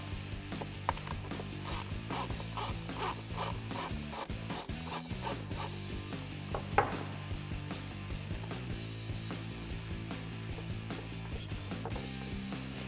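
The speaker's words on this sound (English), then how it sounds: "So now we're going to take our mass airflow sensor off of our factory air box." Screws come out of the mass airflow sensor on the factory air box of a 2019–2022 Silverado or Sierra 1500 V8, heard as a rapid series of ratcheting clicks and rubbing scrapes, close and steady, no talk.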